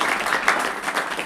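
A congregation claps together in a church service, a brief burst of dense applause at moderate loudness with no voice above it.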